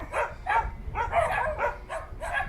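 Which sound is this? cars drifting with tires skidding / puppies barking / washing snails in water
puppies barking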